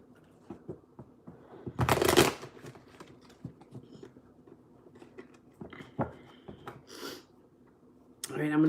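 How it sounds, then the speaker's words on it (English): Tarot cards being shuffled by hand: soft, rapid riffling and patting with a louder burst of card flicks, then scattered taps, while a person talks quietly over it. "I'm just gonna start shuffling."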